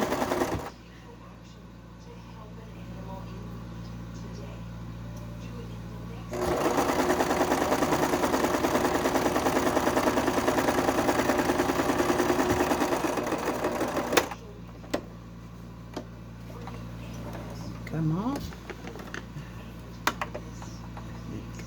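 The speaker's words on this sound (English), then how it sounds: "Just letting it go through the machine." A sewing machine stitches a fabric strip onto a cotton and lace quilt block. A low steady motor hum swells into a louder, even run of rapid stitching for several seconds, then drops back to a quieter idle with a few faint clicks.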